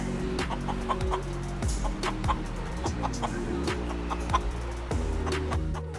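Fancy ornamental poultry at a breed show cluck repeatedly at close range, with several birds calling over one another in overlapping bursts for the whole stretch and no talk.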